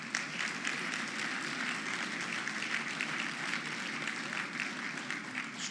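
Applause fills the hall at a 2024 conservative gathering, a continuous, even wash of many hands clapping, somewhat distant and moderate in level, with no voices over it.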